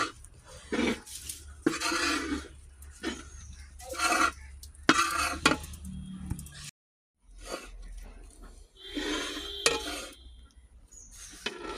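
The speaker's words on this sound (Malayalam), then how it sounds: "തേങ്ങയും അരിപ്പൊടിയും കൂടെ മിക്സ് ചെയ്താണ് അങ്ങനെ ഇളക്കിക്കൊണ്ടിരിക്കുകയാണ്" Rice flour mixed with coconut is stirred in a hot pan for avalose podi, producing repeated bursts of dry scraping and rustling separated by short pauses, fairly close and loud.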